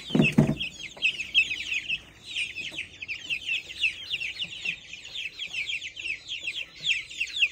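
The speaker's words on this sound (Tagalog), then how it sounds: "sa interested po aning manok light Brahma" A Light Brahma chicken clucks in a steady, rapid run of short calls, fairly close, with a brief thump at the start and no talking.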